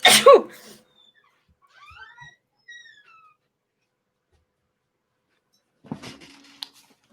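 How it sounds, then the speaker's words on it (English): One sharp, close sneeze bursts out at the start, followed by faint squeaky whimpers and, later, a brief rustle and soft breathing. "About to sneeze."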